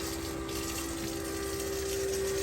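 A water pump runs steadily inside a warm greenhouse full of tomato plants, a continuous close mechanical hum with a clear tonal whine over rushing water, unbroken and alone.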